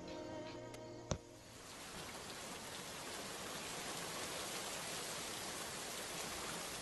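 Heavy rain pours down in a steady, dense hiss that swells and fills the whole scene after a brief sharp knock near the start, continuous and close with no voices.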